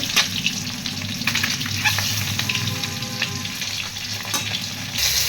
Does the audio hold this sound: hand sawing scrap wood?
no